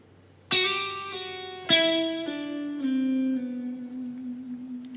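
Lead guitar melody from a song, played alone as a few clean sustained notes that step downward, each picked note ringing out and gliding into the next.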